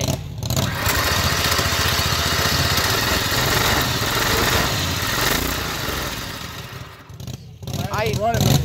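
A mud mower engine runs loud and steady with the choke on, a rough continuous drone that dips briefly near the end before surging back.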